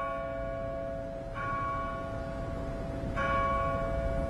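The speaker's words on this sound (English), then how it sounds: "A heavy burden lifts as the bells ring." Church bells ring out over a city at the end of the war with Germany, two bright strikes sounding at a moderate distance over a steady background hum, with no voices present.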